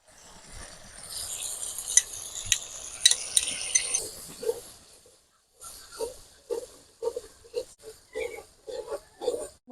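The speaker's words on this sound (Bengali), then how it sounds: "এবারে এই টক দইয়ের মশলাটা এর মধ্যে দিয়ে দেব।" Spiced sour yogurt added to cooked tomatoes in a hot pan, with a hissing sizzle for a few seconds, then a pause and a run of rhythmic scraping stir strokes against the pan.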